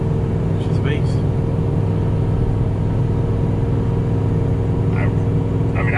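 Ford F350 truck towing a heavy enclosed trailer, its engine droning as a steady loud rumble inside the cab while an automatic gear shift changes the tone, with brief faint sounds from the cabin.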